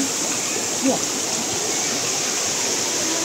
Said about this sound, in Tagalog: So ayan na yung falls guys.